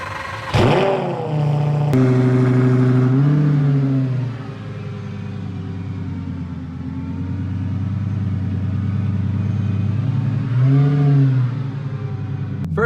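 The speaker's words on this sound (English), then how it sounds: "we have a complete Lamborghini in our garage, and we definitely need to take it for a test drive" A rebuilt Lamborghini, just completed after parts were stolen, on its first test drive: a loud engine rev bursts up at the start, then a steady low rumble carries on and swells again near the end.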